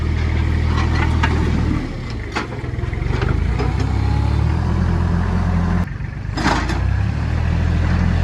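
A tractor engine runs steadily close by with a deep, continuous rumble, dipping briefly twice as the load changes, while work goes on around it.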